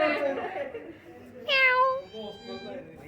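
A close cat meows once, a clear drawn-out cry, preceded and followed by someone talking.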